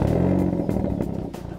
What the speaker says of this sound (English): Veloster's four-cylinder is upgraded to a turbocharged 2-liter engine.